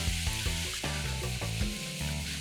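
Chicken mince sizzles and crackles in a hot pan, a steady close frying hiss with no talking.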